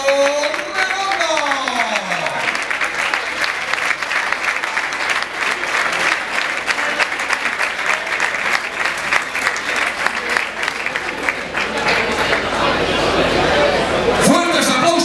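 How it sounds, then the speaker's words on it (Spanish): Loud, sustained audience applause at a tribute event honouring a boxer, dense clapping from a large crowd filling the hall with cheering and chatter mixed in, while a voice rings out over it at the start. "Fuertes aplauso, aquí está Alfonso."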